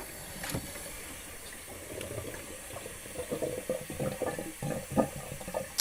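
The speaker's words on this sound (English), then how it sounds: "I'm going to wash that now for a further 5 minutes to make sure that that's completely, that the bleach is completely gone" Running tap water rinses a darkroom photographic print after sepia bleaching, before selenium toning, a steady splashing wash with irregular patters and drips at close range, no voices.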